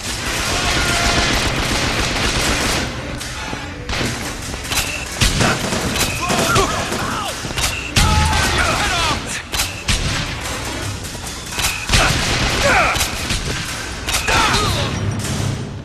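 Explosions and gunfire from the video game BioShock Infinite keep up a dense, loud and steady battle din, with repeated booms and volleys and voices breaking in now and then.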